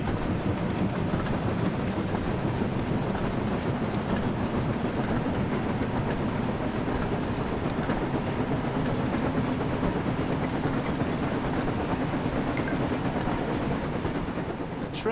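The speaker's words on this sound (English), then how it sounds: "The train was soon running nicely, and James began to feel confident." Train running steadily on rails in the Thomas & Friends Wonders of Sodor video game, a continuous rumbling roll with faint clickety-clack, even and unbroken throughout, no voices.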